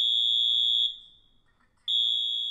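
Fire alarm notification appliance sounding in march time coding, a loud steady electronic tone that cuts out for about a second and then resumes, heard alone on a Cerberus PRO releasing module setup.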